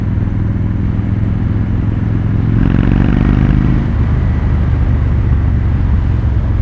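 A 2016 Victory Judge motorcycle fitted with performance exhausts rides past at speed in third gear, its engine a loud, steady, deep rumble that swells briefly in the middle before settling back, with no voices.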